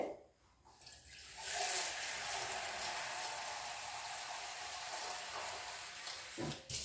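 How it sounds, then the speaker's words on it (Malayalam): Steady rush of water pouring continuously for several seconds into a clay pot, close and fairly loud, with no talking. "ഇതിനകത്തേക്ക് നമ്മൾ വെള്ളം ഒഴിച്ചു കൊടുക്കുന്നു"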